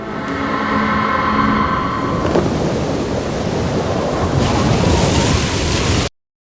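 A film storm scene of strong wind, rain and thunder: a loud, dense roar of wind and rain with a heavy rumble, the gusts surging toward the end before cutting off abruptly.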